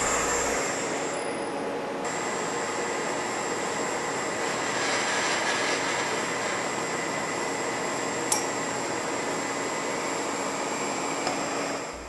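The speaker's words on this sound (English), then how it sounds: "Turn the spindle on. Confirm that the tool is spinning in the correct direction." A milling machine spindle spins at 1200 RPM with a half-inch end mill fitted, giving a steady broadband whir with a high whine that carries on without a break for the whole stretch.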